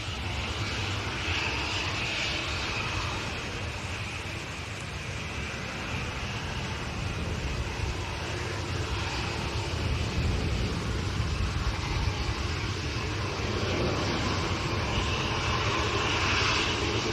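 A Dash 8 turboprop airliner from Luxembourg at Manchester Airport drones continuously, a steady engine and propeller hum with a broad whooshing roar that swells slightly toward the end.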